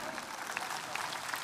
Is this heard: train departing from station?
no